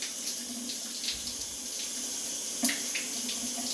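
Hot water runs steadily from a tap into a basin, a continuous close splashing hiss with a few small clicks and knocks, no speech.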